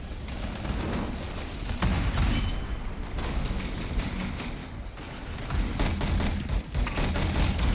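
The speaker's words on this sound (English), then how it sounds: "I love this grenade launcher, to be very honest" Grenade launcher firing in the video game Anthem, with dense, loud rapid blasts and explosions crowding over each other in a continuous barrage of combat noise.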